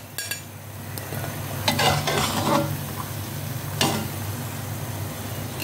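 Crispy dahi baray pieces refried in hot oil: a continuous close sizzle with scraping stirs, including a louder burst of bubbling and a few clinks of a utensil against the pan.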